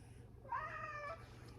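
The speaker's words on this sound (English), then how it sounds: "That's my cat named Puppy." A single soft, drawn-out cat meow, fairly quiet, over low background hum.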